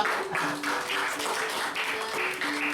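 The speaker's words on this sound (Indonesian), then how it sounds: "tepuk tangan untuk Isra" Students in an Indonesian classroom applaud a classmate with a short burst of fairly soft, rhythmic group clapping.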